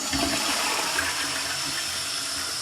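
A siphon drains water away in one rushing gush, a loud continuous hiss and gurgle much like a toilet flush, with no voices.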